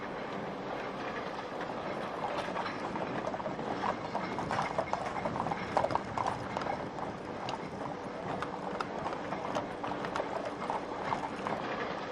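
Horses' hooves clip-clop steadily and close on a Bradford street, alongside the rolling rumble of an early British tram on its rails, with no talk.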